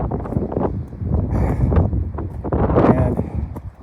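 Strong gusting wind roars across a microphone at the summit of Mount Pierce, 4,291 feet up in the White Mountains, loud and continuous with buffeting surges throughout.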